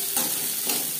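Two chopped onions fry in hot mustard oil, giving a steady close hiss of sizzling with a couple of soft stirring swells, heard alone.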